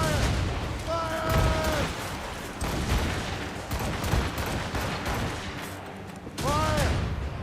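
A musket volley in Assassin's Creed Rogue, a clamour of overlapping shots and booms amid battle noise, with voices shouting commands over the firing.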